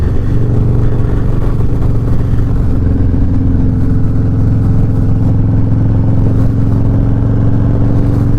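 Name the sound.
Harley-Davidson Low Rider S motorcycle accelerating in third gear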